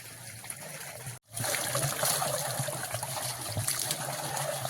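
Irrigation water flows across a farm field in a continuous close trickling and gurgling rush, broken by a brief silent dropout just after the first second before the flow resumes steadily.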